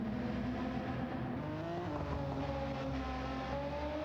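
A Nissan R32 race car engine in Gran Turismo 7 revs through its gears with a high-pitched wail, tones climbing and dropping in steady sweeps, moderately quiet and alone without talk.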